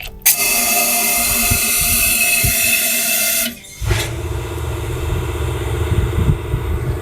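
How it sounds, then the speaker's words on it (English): A loud, steady rush of air hisses for several seconds through an intake valve of a 5.7 HEMI engine with a broken valve spring, cuts off abruptly, then gives way to a lower rumbling whoosh close by. "the air was blowing really badly through that intake valve"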